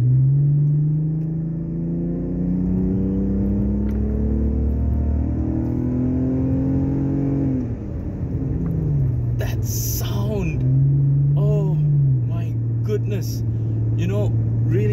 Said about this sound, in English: is it possible to actually fall in love with sound? I believe so. I really do believe so. Because the sound of this car, the way it picks up.